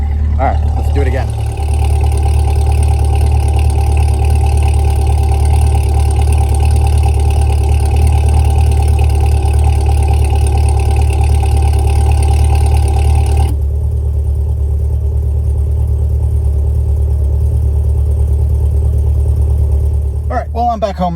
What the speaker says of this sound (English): I might as well hit the valve so then that way you can hear how quiet the exhaust goes